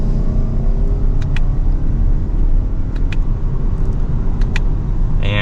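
A 2023 Lexus ES300h F Sport hybrid sedan accelerates from second gear, giving a steady, smooth engine and road rumble heard from inside the cabin, loud and continuous with no talking.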